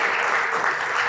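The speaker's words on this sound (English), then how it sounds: "So we can give them a round of applause for getting us to this point." At a wedding reception, a crowd breaks into a short, dense burst of steady applause, loud and close, filling the room without any voices over it.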